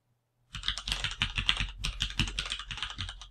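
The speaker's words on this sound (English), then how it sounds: "type in our domain name" Rapid typing on a computer keyboard while entering a domain name during web hosting setup, a steady close run of crisp key clicks lasting about three seconds after a brief silence, with no talk.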